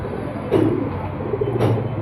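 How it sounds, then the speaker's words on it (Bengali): Old local Khulna-breed pigeons cooing in a loft, two soft low coos about a second apart over a steady background hum, with no talking. "এগুলো আমাদের খুলনার পুরাতন কবুতর"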